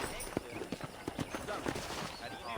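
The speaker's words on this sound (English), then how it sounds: "let's see if you can still ride a horse." Horse hooves clip-clopping at a steady riding pace across a ranch in the video game Red Dead Redemption, a fairly faint, regular patter of hoofbeats with people talking over it.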